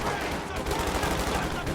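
Rapid machine gun fire from the World War II strategy game Company of Heroes 2, a dense, continuous rattling barrage of overlapping bursts mixed with distant battle rumble, loud and sustained throughout.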